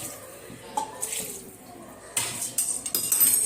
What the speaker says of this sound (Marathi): आता गरम पाणी आपल्याला